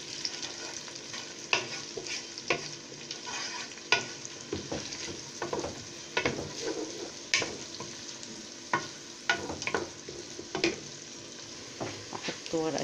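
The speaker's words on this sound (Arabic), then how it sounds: "هيتحمص وهيتكسر في السمنه في الزيت" Onion sizzling and frying in a large pot of country ghee and oil, a steady crackling hiss broken by frequent sharp stirring clinks and scrapes, close by and without speech.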